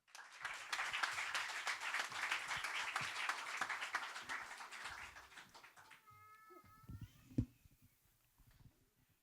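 An audience applauds warmly for several seconds, the clapping fading out midway, followed by a brief, quieter tail with a few scattered sounds.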